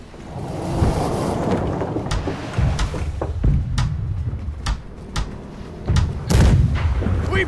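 Heavy ship cannon broadside booms fire in a rapid, irregular volley in a video game, loud and close, with deep rumbling between the blasts.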